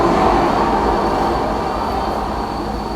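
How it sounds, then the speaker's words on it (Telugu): A loud, steady rumble of a subway train arriving at the platform in Korea, a broad continuous roar with a faint high whine above it. "సో ట్రైన్ వచ్చేస్తుంది, మనం రెడీగా ఉందాం"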